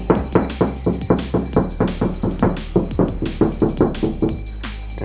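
A 2016+ Honda Civic rear door panel without sound dampening is tapped in a steady series of about fifteen dull, hollow knocks over a low engine-like hum.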